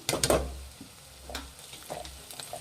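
Egg bhurji mixture with green chillies fries in a pan, a brief clatter of stirring up front, then a soft sizzle with light scraping.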